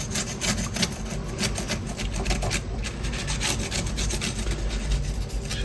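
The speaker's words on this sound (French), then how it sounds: "je vais prendre un petit couteau et là délicatement" Small knife scraping the edges of crispy baked tuiles, a continuous close rasping scrape with quick repeated strokes, fairly loud and steady with no voices.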